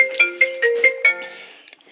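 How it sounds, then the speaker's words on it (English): A phone ringtone plays a bright, repeating electronic melody of short tonal notes, fairly loud and close, ringing alone for about two seconds before trailing off. "Ooh, there's my phone."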